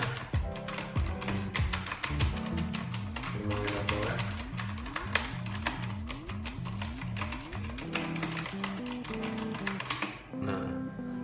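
Fast, steady typing on a mini LED backlit keyboard, the b-pro 1, with dense clicky keystrokes close up that run continuously before breaking off near the end.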